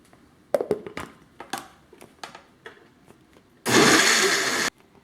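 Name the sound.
blender grinding tomatillos, cilantro and garlic for tamale salsa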